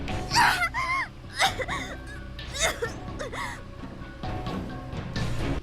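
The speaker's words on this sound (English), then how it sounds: "And that was the sound of a girl in pain." A girl moans and whimpers in pain in the video game Corpse Party: Book of Shadows, close by, in repeated strained cries broken by gasps and shaky breaths.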